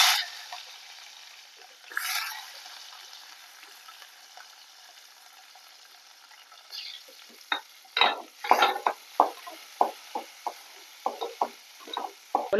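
Shallots sizzle in a hot pan as a spatula scrapes and stirs, with a steady frying hiss and a run of irregular clinks and scrapes toward the end.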